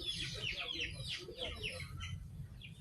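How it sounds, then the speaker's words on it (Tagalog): Large chickens on a farm clucking and squawking repeatedly in a close, busy chorus, with a steady low rumble of background noise underneath. "ayan guys ang mga manok guys oh. Manok nga mga malalaki"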